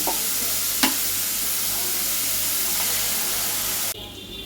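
An egg fries in hot oil with salt in a pan, a loud close sizzle and hiss, with a brief scrape of stirring early on and a sudden drop in the sizzle near the end.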